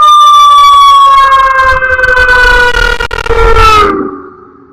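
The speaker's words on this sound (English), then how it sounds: "I didn't actually turn my camera on for all of this emergency noise." A loud emergency vehicle siren holds a long, steady wail that slowly falls in pitch, with road rumble below, before cutting off abruptly near the end.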